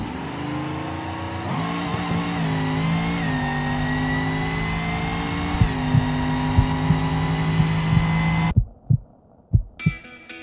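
A Bruckell Moonhawk in the BeamNG driving game tears down a drag strip on nitrous, its engine droning loudly in a rising, strained whine across several gear changes before cutting out into a few dull thumps.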